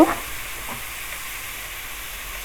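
Chopped onions frying golden in a pan for a Bangladeshi fish shami kabab, a steady soft sizzle and hiss that starts with a brief sharp clink and then runs on evenly.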